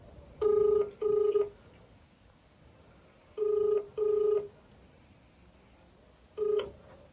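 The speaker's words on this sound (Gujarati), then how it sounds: "હું ફોન કરી દઉં" Telephone keypad tones beep in clear, evenly spaced bursts: two quick presses, a pause, two more, then a single final tone, loud and close in an otherwise quiet room.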